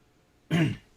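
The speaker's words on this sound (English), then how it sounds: "I still got a cough." A single short, throaty cough close up, in otherwise quiet surroundings.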